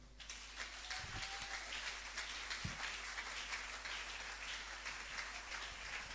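A church congregation at a Sunday service applauds for Gervais, who stands up, a steady wash of clapping from many hands that holds evenly throughout at moderate loudness, with no voices over it.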